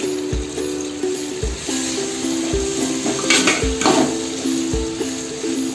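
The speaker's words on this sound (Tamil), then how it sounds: "தக்காளியும் நல்லா வதங்குற அளவுக்கு நம்ம வெயிட் பண்ணணும்" Tomatoes sauté in a pan with browned onions for a home-style biryani, a low sizzle running underneath while a spoon knocks the pan at regular intervals and stirs in scraping bursts. No one speaks.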